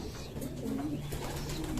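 A pigeon kept and raised for breeding coos softly over a steady low background hum, with a few faint chirps mixed in and no talk.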